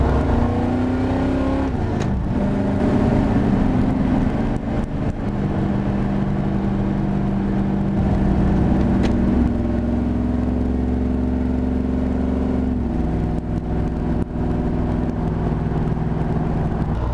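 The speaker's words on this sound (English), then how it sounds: "That just shot up to 80 miles an hour like it was nothing" A 1982 Chevrolet C10 pro street pickup with over 500 horsepower accelerates hard from the cabin, its engine droning loud and steady with rising and shifting tones throughout, no talk.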